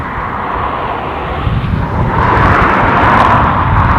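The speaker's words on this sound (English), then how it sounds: "that was the ATR 72 over the far side" An ATR 72 turboprop airliner passes across the far side of Dublin International Airport, giving off a steady, broad engine roar that builds slightly partway through and stays distant, with no talking over it.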